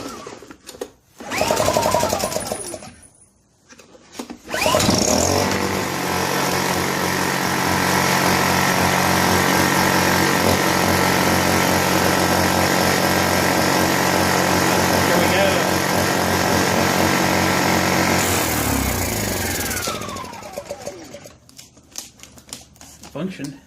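A Honda EU1000i portable generator in poor running condition drones steadily and loud inside a shop for about fifteen seconds, with a rapid mechanical chatter, then cuts off.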